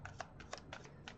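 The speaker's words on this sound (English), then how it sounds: "Get a good shuffle." A deck of tarot cards is shuffled up close, with quick, soft riffling flicks and papery slaps in an irregular rhythm, faint and intimate, with no talking over it.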